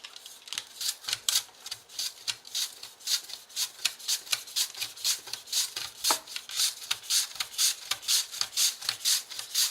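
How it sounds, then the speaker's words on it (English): An onion is sliced super thin on a mandoline slicer, a fast, steady run of close, sharp scraping strokes, each one a crisp rasp repeating in an even rhythm. "It'll be sliced in the exact same style with the mandolin, super thin."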